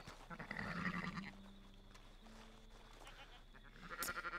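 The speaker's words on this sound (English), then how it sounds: "These poor sheep, man" Sheep bleating in Red Dead Redemption 2, a few wavering bleats up close in the first second and a half, then quieter game ambience with a brief sharp sound near the end.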